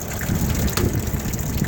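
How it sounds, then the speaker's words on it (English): Water gushing from the spinning distributor of a swamp cooler, splashing down into a channel that feeds the cooler pad; a steady, close, continuous rush and splatter with no voices. "you can see there's water coming out of the spider. Water comes down,"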